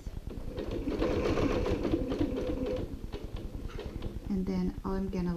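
A sewing machine stitches an ironing board cover in a fast, steady mechanical rattle, running continuously and then slowing to short pulses near the end, with a voice speaking over it.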